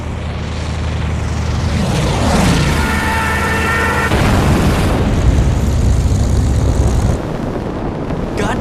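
Enemy fighter planes attack in the naval combat game Battlestations: Midway, a loud continuous roar of aircraft engines mixed with explosions and booms, with a droning engine tone sweeping through the middle and the rumble easing near the end.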